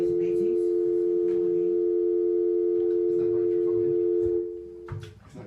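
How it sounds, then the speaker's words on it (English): A telephone busy signal sounds as a loud, steady electronic tone that repeats evenly for several seconds through a phone line, then cuts off near the end as background room noise and a faint voice come in. "his line is busy."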